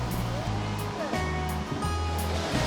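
An all-wheel-drive car hits a river crossing too hard, sending a loud surging splash of water around it under a running engine, continuous and close throughout.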